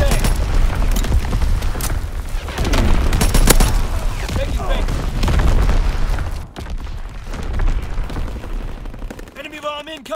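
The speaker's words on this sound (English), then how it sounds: "Enemy bomb incoming!" Bomb explosions and gunfire in the Call of Duty: WWII video game, with dense, continuous shooting, heavy booming blasts and overlapping battle noise at close range, loud throughout.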